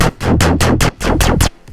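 A thick, buzzy Serum synth bass with effects off plucks a steady run of short, punchy notes in a driving rhythm, loud and dry with no voices.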